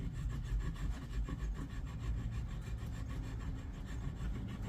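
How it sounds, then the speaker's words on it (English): Hand file rasps slowly across the metal of a Harrington and Richardson 12 gauge shotgun receiver, giving quiet, close, rhythmic strokes with no talk. "I'll just use a file, and I'll just take this material off"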